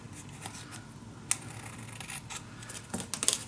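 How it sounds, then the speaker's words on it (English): Scissors snip through decorative design paper in a few short, crisp cuts spread across a quiet stretch, ending in a quick cluster of snips, with no voices. "so I'm just gonna cut this down just a little bit"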